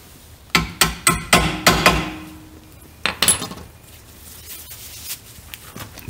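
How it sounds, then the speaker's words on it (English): A hammer taps a bolt through the rear suspension of a VW Golf mk4, delivering a quick run of about six sharp metallic strikes, then a few more spaced, fainter knocks. "I would get a hammer and just tap that through the other side."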